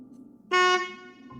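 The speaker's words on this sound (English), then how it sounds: "Did someone honk at me?" A single short, loud car horn honk in the Tiny Bunny video game sounds over a quiet background, then fades away.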